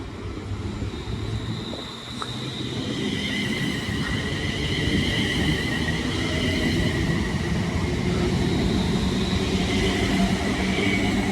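A Pendolino express train departs Watford Junction bound for Glasgow, its steady rumble and rail roar building and holding loud across the whole stretch, with a high electric whine riding above.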